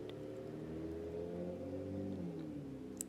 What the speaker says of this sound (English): sorry for the loud traffic